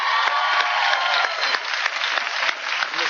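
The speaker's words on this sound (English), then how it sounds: "I actually just said that for the applause." An audience applauds, a steady, dense wash of clapping hands that stays even from start to finish.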